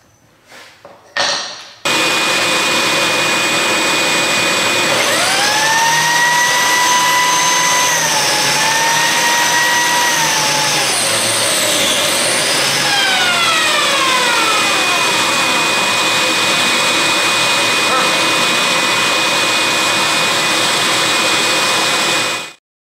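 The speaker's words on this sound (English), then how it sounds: "And you cut a little slot with this biscuit joiner." A handheld biscuit joiner cuts slots into wood pieces with a loud, steady motor whine that holds for about twenty seconds, its pitch sliding and dipping as the blade plunges in, then shutting off.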